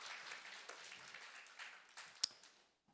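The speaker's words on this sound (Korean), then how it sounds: "박수 한번 할까요?" Audience applause in a church conference session, a broad wash of clapping from a crowd that runs steadily for about two seconds, with one sharp louder clap near the end before it fades out.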